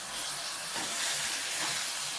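Leftover overnight soaking water from chickpeas sizzling in a hot pan for a chickpea and sausage stew, a loud, steady, close hiss with no pauses.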